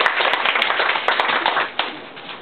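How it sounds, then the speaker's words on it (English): An audience claps for a speaker at a speech evaluation gathering: brisk, fairly close group clapping with a few sharper claps on top, holding steady and then tapering slightly at the end. "So everyone please give Edward a big round of applause"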